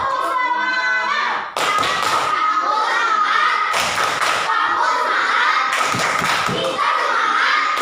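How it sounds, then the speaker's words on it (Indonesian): A primary-school class performs a rhythmic 'tepuk semangat' clap chant, with sharp patterned hand claps and thumps punctuating children's chanting voices close by. "Ayo, 1, 2, 3. Tepuk semangat."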